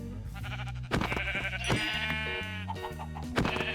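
Sheep bleating in Minecraft, several loud nasal bleats with strong harmonic stacks repeating through the clip, close and prominent over a steady game background.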